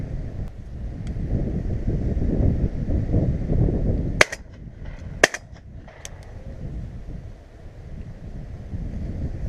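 Two sharp, loud shotgun shots go off at pigeons flying over decoys, about a second apart, with wind rumbling against the microphone before and after and a couple of faint clicks following.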